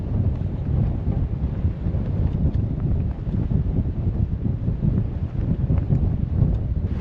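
Strong wind buffets a sailboat with a broken mast at sea. It makes a loud, constant low roar with gusty rumbling that never lets up.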